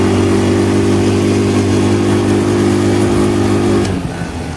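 An ATV engine runs loud and steady at close range with a constant droning hum during a front brake test, then cuts off abruptly near the end, leaving quieter background noise.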